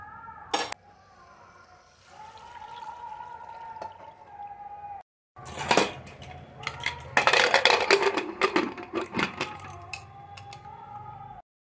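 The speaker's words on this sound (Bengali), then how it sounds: "গরম জলও হয়ে গেল, এবার ঢেলে দিই।" Hot water is poured into meat cooking in a pot for a Sunday lunch; after a short pause a loud, close burst of hissing, splashing liquid swells, with a few clinks and fainter tonal sounds around it.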